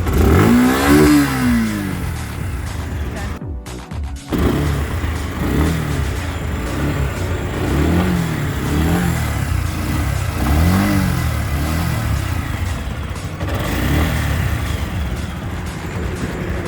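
Suzuki Gixxer SF BS6 motorcycle engine revved repeatedly up close, each throttle blip rising and falling in pitch in a regular pattern over a steady idle, with no talk.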